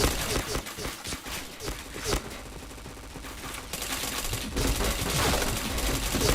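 Rapid bursts of gunfire from a shooter video game crackle continuously, dense and close, with a voice talking over parts of the clip.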